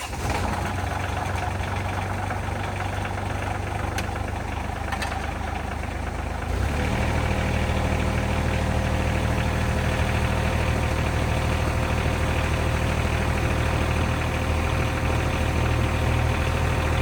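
A Caterpillar excavator diesel engine with a newly repaired muffler cranks briefly, then catches at about six seconds and settles into a loud, steady idle with a low rumble that carries on to the end, with no talking.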